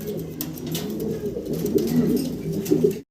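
Pigeons at a Bangladeshi pigeon seller's, including a running pair of yellow birds, coo in close, overlapping throaty calls that continue steadily, with faint voices in the background before the sound cuts off.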